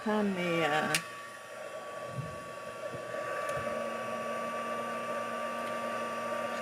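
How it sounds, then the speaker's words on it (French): A heat gun blows hot air while a floating-frame Christmas card is being made, a steady whirring hiss holding from about a second in and running on without a break after a brief clatter. "On va chauffer notre pistolet un petit peu"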